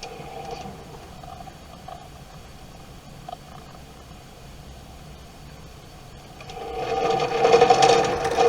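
A longarm quilting sewing machine with a bobbin problem runs with a steady low mechanical hum, then grows louder and harsher near the end with a rough, rattling whir.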